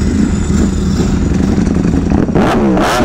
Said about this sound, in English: That's what a real bike sounds like, Curtis.